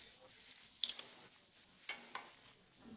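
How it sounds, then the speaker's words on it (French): Food fries in a pan over medium-low heat, a faint, quiet sizzle broken by a few light utensil clicks and taps against the pan, with no one talking. "Le secret, c'est de toujours les frire à feu moyen ou doux"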